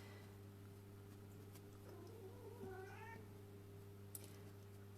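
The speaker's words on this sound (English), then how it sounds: "I apologize if my cat is meowing there in the background" A pet cat meows faintly in the background of an indoor room, a few short rising calls around the middle over a steady electrical hum, with no talking.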